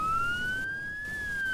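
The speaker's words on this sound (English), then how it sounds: "The sirens are kind of annoying" Police car siren in the Roblox Jailbreak video game, a single clear rising and falling electronic wail sounding alone and steady at moderate loudness.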